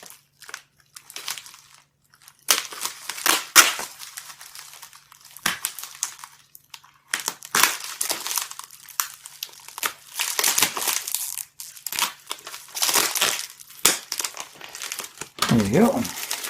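Crinkly tape and plastic wrapping crackle and tear in repeated bursts as an Amiga 600 is cut free, loud and close, with a person talking intermittently over the crunching.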